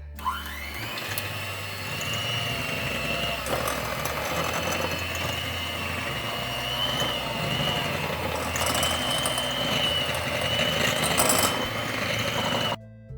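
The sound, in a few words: electric hand mixer whisking carrot oil cream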